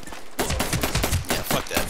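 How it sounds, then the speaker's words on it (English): Rapid automatic gunfire in an online shooter video game match, a dense, loud burst of repeated shots that starts abruptly and continues throughout. "he's trying to shoot at me"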